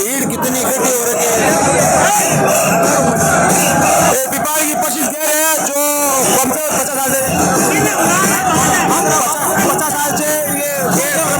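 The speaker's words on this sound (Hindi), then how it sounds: "कितनी भीड़, कितनी इकट्ठी हो रखी है।" A dense crowd packed together at the Gair folk festival in Pipar, a steady loud hubbub of many voices throughout, with someone talking close over the babble.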